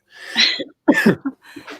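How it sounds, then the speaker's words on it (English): Someone coughs several times in a quick, raspy burst close to the listener, with short gaps between the hacks. "I've got a really tickly cough."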